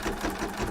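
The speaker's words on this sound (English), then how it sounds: "So we are doing the placement stitch right now." An embroidery machine sews a placement stitch outline for appliqué, a steady, rapid mechanical whirr with a fast needle rhythm, close and continuous with no voices.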